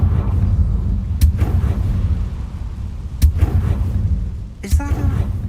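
Booming blasts from the Confringo explosion spell in the video game Hogwarts Legacy, three sharp bursts spaced a couple of seconds apart over a rumbling, noisy game background.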